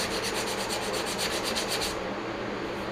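Rhythmic back-and-forth sanding of surface rust on the top frame of a 1966 Ford Galaxie 500 convertible, close and steady, with regular strokes for two seconds before settling into a continuous scraping hiss.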